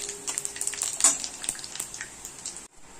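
Cut dried red chillies and panch phoron spluttering in hot oil in a wok, a dense crackling sizzle with quick popping bursts, close and fairly loud, before cutting off abruptly near the end.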